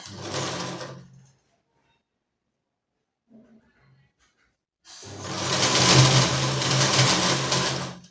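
A sewing machine stitches a blouse belt in two close, loud runs of rapid whirring and clatter, a short burst at the start and a longer one after a quiet pause with faint handling knocks.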